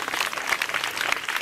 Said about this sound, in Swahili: Hebu pigeni president wetu makofi.